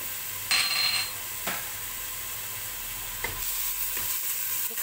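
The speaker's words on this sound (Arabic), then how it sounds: "وكنقلب مزيان هاد البصله" Onion and garlic sizzle in a pot while a utensil stirs them, giving a constant frying hiss broken by a few sharp scrapes and clinks against the pot, close and alone without talk.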